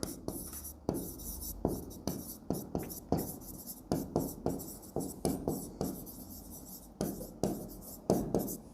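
A pen writes figures on paper for a bank reconciliation statement: quick, close scratchy strokes in short bursts separated by brief pauses, rhythmic and steady with no voice over them.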